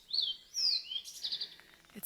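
Several birds chirp and tweet nearby in quick, bright bursts, with whistled notes rising and falling against a quiet background, in a lush green summer forest reserve at Alert Bay.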